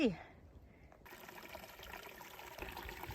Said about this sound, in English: Got a nice little stream here, and Forrest is gonna take a drink.